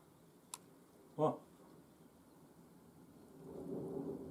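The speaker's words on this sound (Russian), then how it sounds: "Гром гремит." Rain patters quietly outside a window in a village, then distant thunder rolls in, a low rumble building and growing louder toward the end after a brief sharp sound.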